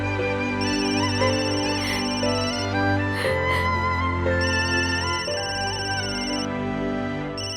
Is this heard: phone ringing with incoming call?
yes